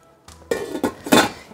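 A saucepan handled while cooking couscous with milk and pumpkin: a few sharp metallic knocks and clinks of pots, spaced irregularly over a quiet kitchen background.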